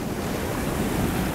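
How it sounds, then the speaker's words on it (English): Ocean surf washing onto a beach at Kuta, Bali, a steady broadband roar of breaking waves mixed with wind buffeting the microphone, continuous and fairly close with no voices. "Well, we finally made it to the beach."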